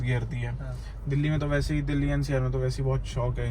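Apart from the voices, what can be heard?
No everyday noise stands out behind the speech.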